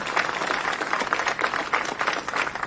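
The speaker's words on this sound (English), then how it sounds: "Let's give them a big round of applause." Servicemen and women receive a round of applause at a 9/11 memorial gathering at the California State Fairgrounds, Cal Expo: a steady wash of many hands clapping at moderate loudness throughout, with no voices rising above it.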